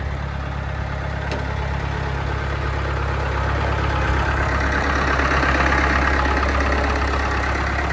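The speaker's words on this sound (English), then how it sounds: "Tractor runs really good." A Massey Ferguson MF 285 tractor engine idles steadily and close by, a constant low diesel rumble with an even, unbroken loudness throughout and no voices.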